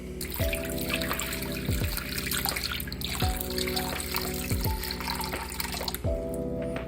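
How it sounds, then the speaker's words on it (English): Water splashes and trickles steadily into a PacMan frog's water dish, fairly close, with a repeating pattern of small knocks and clunks every second or so as the flow continues. "There we go, water dish filled."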